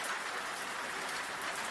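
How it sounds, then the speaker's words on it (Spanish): Steady rain falling, a soft, even hiss of many drops with no gaps or changes, moderately quiet and alone with no voices. "La lluvia se había vuelto más suave."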